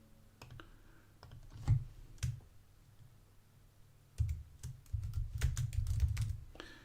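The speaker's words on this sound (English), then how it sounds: "I'm going to click save. I'm going to click next." Scattered light clicks from a computer mouse at a desk, close and fairly quiet, some single and some in quick clusters, with soft desk noise between them.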